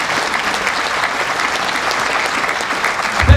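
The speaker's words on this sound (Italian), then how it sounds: "vi prego di farvi voi stessi un applauso per questo grande calore che ci riservate" A live concert audience in Montreal applauds itself, thick continuous clapping from a large crowd filling the room evenly for a few seconds.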